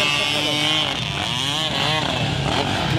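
Motocross motorcycles racing at a competition in Laguindingan, Misamis, engines revving and whining loudly with rising and falling pitch, heard up close amid crowd and announcer voices.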